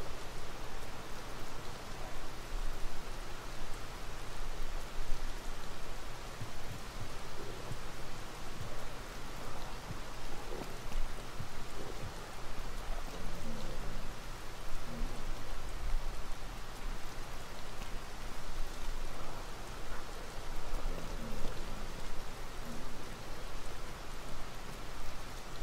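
Rain falls in the video game Tears of the Kingdom, a steady, moderately loud wash of drops pattering on surfaces that holds unbroken for the whole stretch, with no talking.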